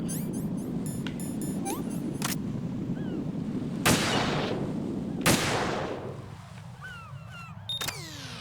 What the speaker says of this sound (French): Et là, explosion directe.